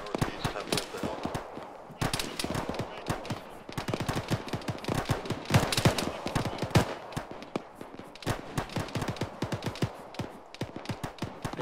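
Gunfire rattles through a video game firefight: many sharp cracks in irregular bursts and single shots, some rapid strings like automatic fire, varying between nearer loud reports and fainter distant ones across the whole stretch.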